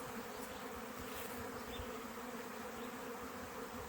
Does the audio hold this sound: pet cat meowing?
no